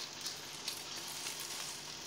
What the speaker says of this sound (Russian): пока жарятся у меня котлетки